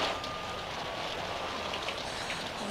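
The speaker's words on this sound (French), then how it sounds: "Zut, il pleut." Steady rain falling outdoors on a city street, a continuous hiss of drops on the surface with no voices, even and close throughout.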